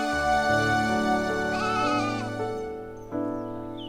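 Sheep bleat loudly and close by, with long quavering cries that overlap one another in a continuous stream and a fresh bleat starting near the end.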